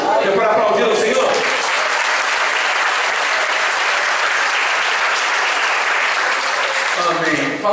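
A church congregation applauds during a sermon, a loud, dense wash of clapping that holds steady for several seconds before thinning out at the end.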